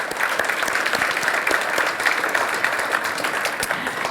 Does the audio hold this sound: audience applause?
yes